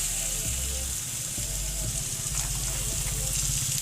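Chicken fries in hot oil with a steady, loud, close sizzle and crackle throughout, and occasional low thumps from the pan or utensil beneath it.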